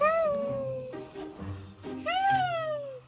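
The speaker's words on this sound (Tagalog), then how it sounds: "Pero yan ay tunog pala ng pusa." A Persian cat gives an odd, child-like meow: a long drawn-out wavering cry, a short broken middle sound, then a second rising and falling meow, heard close and alone.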